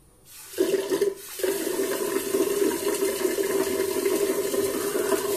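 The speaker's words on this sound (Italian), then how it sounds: "Aspetta che scorre l'acqua." Tap water running into a bathroom sink before a wet shave: a short splash, a brief pause, then a steady close rush of flowing water that continues to the end with no talk.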